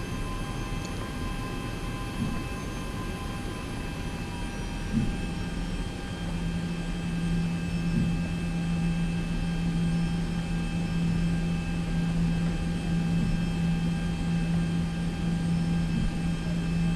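Airplane engines in the X-Plane flight simulator spool up for takeoff on runway 27 at San Diego, a steady whining drone with a rising tone partway through that holds evenly throughout, with no voices.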